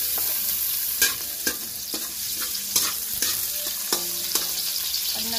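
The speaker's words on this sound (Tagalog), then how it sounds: "maglalagay na tayo ng mantika at ng sangkutsuhin yung bawang, sibuyas, luya. Unahin muna natin ang luya" Ginger sizzles in hot cooking oil in a pan for a Filipino pork blood stew, a steady frying hiss broken by periodic sharp scrapes and clinks of stirring, close and alone with no voices.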